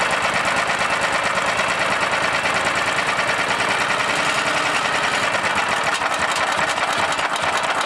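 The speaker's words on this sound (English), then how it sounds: "That right there seems to be about where it wants to idle." A tri-fuel generator engine idles steadily after an idle adjustment, a dense, even mechanical drone with a fast rhythmic chatter that stays constant and fairly loud throughout, with no talk over it.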